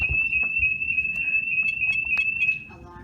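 A steady high electronic tone from a SimpliSafe home security alarm panel arming, with short beeps over it, stopping near the end, with faint room noise.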